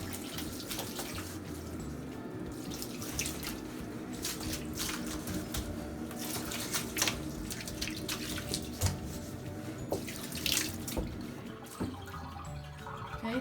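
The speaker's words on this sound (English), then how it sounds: "we'll just rinse it all out." Running water rinses hair and gunk out of a jacuzzi tub filter, a steady faucet splash with irregular splatters and drips, close by and moderately quiet, with no one talking.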